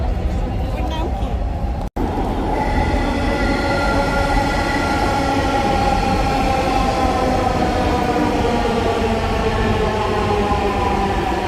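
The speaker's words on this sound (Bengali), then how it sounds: "আর আজকেই প্রথম মেট্রো রেল দেখলো।" A metro rail train passes close by, a loud sustained rumble with steady high whining tones from wheels and motors filling the whole stretch after a brief cut near the start.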